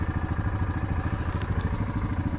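A Warn VRX 25-S winch on a Yamaha Kodiak 450 EPS ATV reels in while the engine idles. The engine gives a steady, close, pulsing rumble through the whole stretch, and no one speaks.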